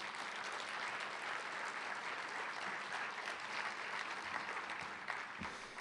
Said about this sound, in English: Let's give all of our town employees a round of applause.